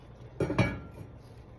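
A metal lid is set back onto a pot of adobo, giving two quick, close clinks about a fifth of a second apart, followed by faint quiet.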